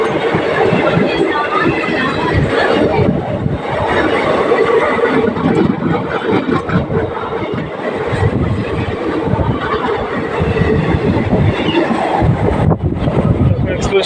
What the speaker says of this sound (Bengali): এক্সপ্রেস ট্রেনটা বেরিয়ে গেল